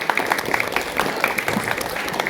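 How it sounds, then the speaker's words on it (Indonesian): An audience at a school event claps in applause for the teachers, a moderately loud patter of hands heard briefly. "beri tepuk tangan untuk Bapak Ibu guru kita yang luar biasa"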